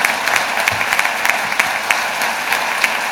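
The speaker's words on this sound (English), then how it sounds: "So can we have a round of applause for appreciation for joining us?" Luncheon crowd at a Seattle Rotary gathering applauding a Blue Angels pilot, a steady moderate wash of many hands clapping with scattered sharper claps, no talk over it.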